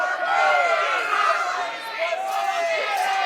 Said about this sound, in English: this crowd is not for Rhor